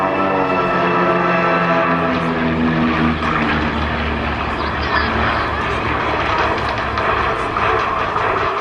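A formation of four propeller aircraft at the Sanicole Airshow 2010 makes a loud, steady engine drone that holds without a break as the planes cross over, with a faint voice underneath.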